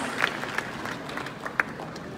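An audience at a ghazal concert in Delhi honouring a ghazal singer claps, with scattered individual claps over a low crowd murmur and a few sharper, louder claps standing out.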